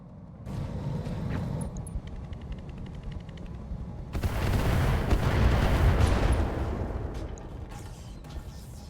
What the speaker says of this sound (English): That might genuinely be a thumper artillery.